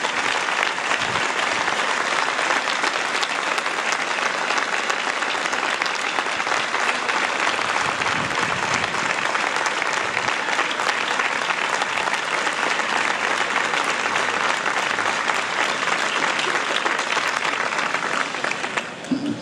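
Dense, loud crowd applause at an outdoor freedom rally in Gràcia, thanking the neighbours, steady continuous clapping for nearly twenty seconds with no talk, tapering briefly at the end.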